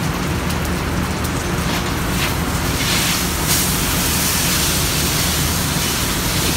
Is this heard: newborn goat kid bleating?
no